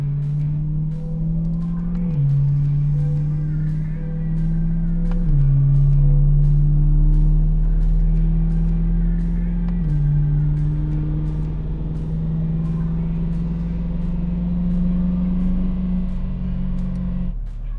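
A C8 Corvette on a flex fuel ethanol tune cruising along, its engine a steady loud drone that steps up and down in pitch with gear changes over road noise, no talking.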